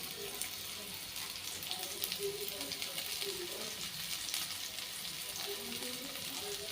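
Carrot pieces and shredded cabbage stir-frying for Hakka noodles, a loud steady sizzle and crackle filling the whole stretch with faint stirring underneath.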